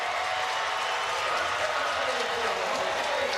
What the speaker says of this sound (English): Listen to that home crowd.